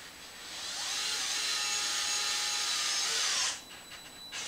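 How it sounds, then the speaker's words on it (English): A power driver with a 3mm Allen bit tightens hinge pin screws on a Traxxas X-Maxx RC truck, a steady high whirring for about three seconds that cuts off abruptly, followed by a few small clicks. "the Allen that you're going to need is a 3mm, so we'll just tighten these right up"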